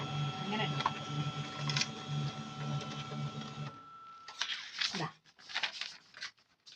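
A photocopier runs while making a copy, with a steady mechanical whir and rhythmic clicking for several seconds, followed by paper rustling and handling noises as someone talks nearby.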